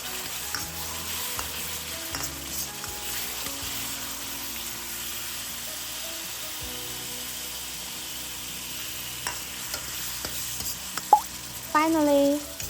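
Mushroom and pork belly stir-fried in a wok make a steady sizzle with occasional stirring clatter, and a voice speaks briefly near the end.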